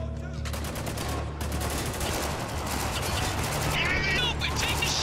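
Heavy machine gun fire in the video game Spec Ops: The Line: dense, rapid bursts of loud automatic shots layered over a constant roar of battle noise, with the sharpest volley in the first two seconds.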